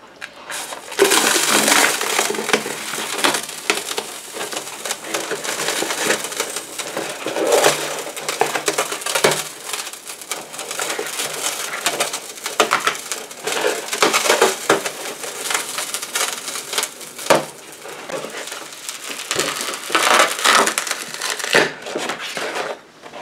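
A balloon is punctured and peeled away from a hardened DIY plaster moon lamp sphere, giving a long stretch of close, continuous crackling, crinkling and scraping with no talk.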